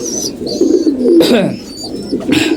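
Pigeons coo in low, soft, rolling calls close by, with a few brief higher chirps over the murmuring.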